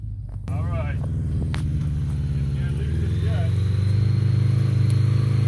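A Honda Gold Wing motorcycle starts off and rides away, its steady low engine hum filling the scene after a brief quiet opening, with people talking over it.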